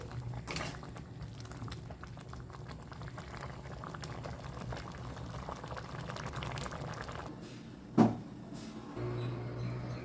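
Ponnanganni keerai kootu with coconut bubbles in a pot, a steady low burbling boil heard up close and alone, interrupted once by a single sharp knock.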